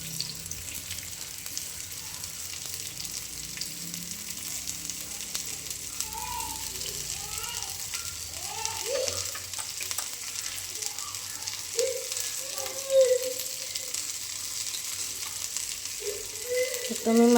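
Okra (bhindi) fries in a blackened iron tava, a soft steady sizzle with occasional light clinks and stirring scrapes, heard alone without voices.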